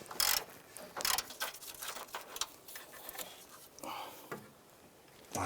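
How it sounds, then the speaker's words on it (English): A 1/2-inch drive ratchet with a 13mm socket works loose the transmission mount bolts on a 2001-2007 Ford Escape, giving quiet irregular clicking and scraping bursts close by. "use our 1/2" drive 13mm in our ratchet. Go to work these bolts and get these out"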